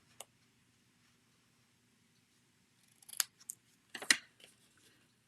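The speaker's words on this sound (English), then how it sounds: "I'm just going to trim that off just a little bit more" Scissors trimming paper on a handmade card, with one snip near the start and then a quick burst of close, crisp cuts after a quiet pause.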